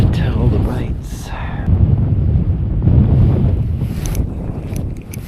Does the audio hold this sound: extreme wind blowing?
yes